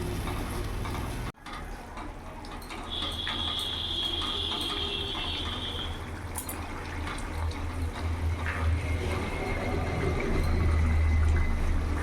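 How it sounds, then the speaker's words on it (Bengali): Water is poured into a Bengali-style fig and potato curry. It gives a continuous wet rushing that grows slightly fuller as the pot fills, with no speech. "আর একটু জল দেবো এবার ভালো করে ফুটতে দেবো"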